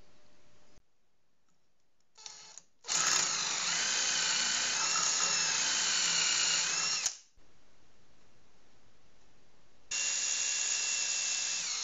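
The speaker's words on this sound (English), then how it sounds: "Then it enables me to drill just a little bit in so I can make the countersink for my screw." A power drill whirs in two steady bursts, drilling a countersink hole for a screw, close and loud, with short clicks and a brief start before the first long run; no talking.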